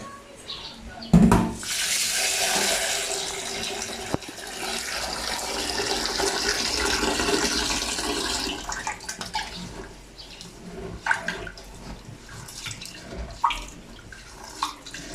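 Water gushes and swishes as black rice from North Cotabato is rinsed in a pot, a loud steady wash after a brief knock that fades into softer sloshing and scattered splashes.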